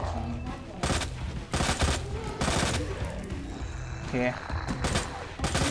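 Repeated heavy gunshots in Resident Evil 2 Remake, Ghost Survivors mode, several loud separate blasts spaced a second or so apart, with mechanical clicks between and someone talking.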